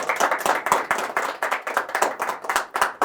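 An audience claps loudly for invited guests being honoured at a ceremony, a dense, steady round of applause with sharp overlapping hand claps from start to finish and no talk.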